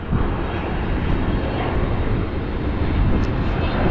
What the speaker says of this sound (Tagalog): Tapos ang baba ng eroplano.